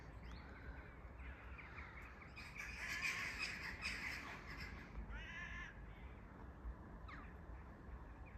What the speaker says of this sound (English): There they are, crows versus kite over there.